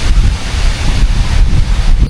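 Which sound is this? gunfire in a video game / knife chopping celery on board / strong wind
strong wind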